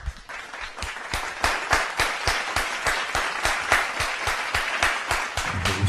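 A congregation at a church teaching service claps in a steady, rhythmic unison beat to welcome a guest, with sharp, loud, evenly spaced claps continuing throughout.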